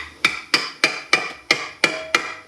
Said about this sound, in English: we're gonna hammer this on.